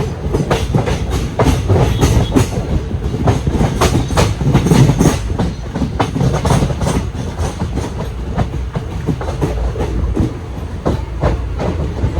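Palaruvi Express passenger train, on the Thoothukudi to Palakkad route, rolling steadily on rails with a continuous loud rumble and repeated clickety-clack of wheels over rail joints, heard from on board.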